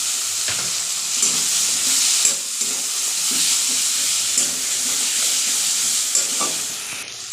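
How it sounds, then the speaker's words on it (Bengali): Fried potatoes stirred into sizzling masala for a katla fish-head curry make a dense, steady hiss of frying, with occasional scraping stirs and soft knocks close by. "এবার আমি এর মধ্যে ভেজে রাখা আলুগুলো দিয়ে দেবো।"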